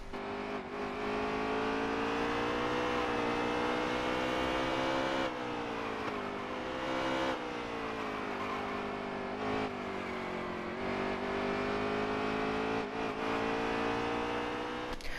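Race car engines in a sim racing game roar steadily at high revs, with repeated dips and climbs in pitch as the car shifts and works through corners while passing another car, loud and continuous with no talk.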